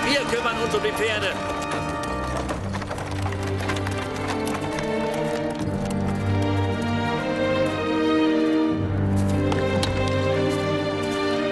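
Horses' hooves clip-clop in a steady rhythm beneath continuous dialogue and orchestral music in a fantasy drama, the hoofbeats partly masked by voices.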